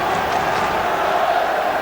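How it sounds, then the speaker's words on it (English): A large football crowd at Charlton Athletic versus Liverpool in 2001/02 roars and applauds in a steady, dense wash of noise, loud and continuous throughout. "ripple of applause and support from the Charlton fans"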